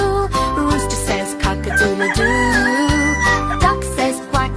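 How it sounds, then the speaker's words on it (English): A cartoon rooster crows over upbeat music in a children's farm animal song, the sound ringing out clearly and loud across the whole clip. "Rooster says"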